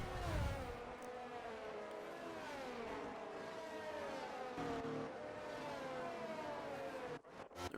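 Race car engines in a racing video game at Britain during a formation lap, a faint, steady whine that rises and falls in pitch, with a brief clatter near the end.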